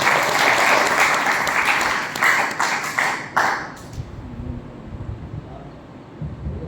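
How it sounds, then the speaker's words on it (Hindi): Loud, dense applause from an indoor audience, sustained for about three seconds and then tapering into a few scattered claps before fading to quiet room noise. "तो आप सभी के लिए आप जोरदार तालियां बताएं"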